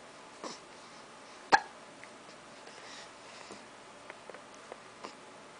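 One distinct, close hiccup stands out early, followed by scattered faint ticks and small clicks in a quiet indoor room.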